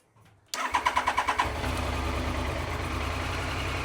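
An old Triumph engine on choke turns over with seven or eight rhythmic starter cranks, then catches and settles into a loud, steady rumbling idle, heard up close with no talking.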